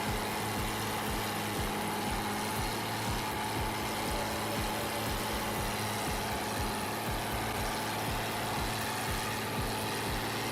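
Bulldozer engine straining as its rear tires spin in snow while towing a buried vehicle, a loud continuous low drone with rapid pulsing churn, steady and close throughout.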